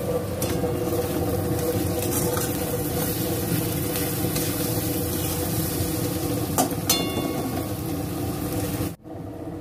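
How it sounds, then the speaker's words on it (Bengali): Ginger, garlic and green chilli sauté in a pan with a steady, dense sizzle. The frying holds constant for about nine seconds, then cuts off abruptly near the end. "হাফ আমি কষায় দিয়ে দিচ্ছি আদা রসুন কাঁচা লঙ্কা"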